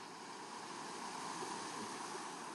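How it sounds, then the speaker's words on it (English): Ocean waves breaking on a shore, a steady broad wash of surf with no distinct individual crashes, moderately faint and heard alone. "So right here is where the proud waves halt."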